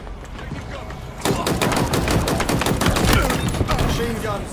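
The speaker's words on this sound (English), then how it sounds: "Machine gun." Machine gun fire in a Halo video game match breaks out as a rapid, dense stream of shots after a brief quieter lead-in and keeps going at close range, with a voice talking faintly underneath.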